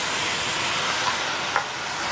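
Garlic hisses and sizzles steadily in a hot pan, a broad, even frying noise with a couple of small pops near the middle.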